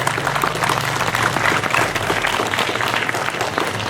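Audience applause at a school investiture ceremony, a sustained wash of clapping mixed with crowd murmur and a low background hum, fairly loud and even throughout.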